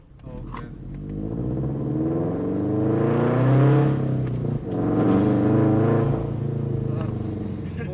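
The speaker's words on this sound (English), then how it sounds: "Take it, you know, I'll hit rev limiter, why not?" A 2020 Subaru BRZ engine revs steadily upward toward the rev limiter, a loud, close, continuous tone that climbs and briefly dips, heard from inside the car.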